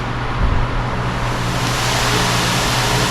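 A buffing wheel spinning at 3,600 RPM polishes aluminum trim from a classic car seat, producing a steady, loud, broadband whir with a low motor hum underneath and no talking.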